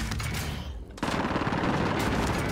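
Rapid automatic gunfire in the Call of Duty: Modern Warfare video game, a loud, dense burst that dips briefly before a renewed, sustained volley of fast shots.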